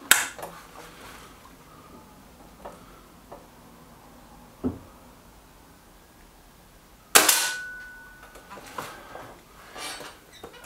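Trimex Arms Elf S and Kral Puncher Knight air rifles fire a few sharp, isolated cracks spaced seconds apart, the loudest late in the sequence, each followed by a brief ringing decay.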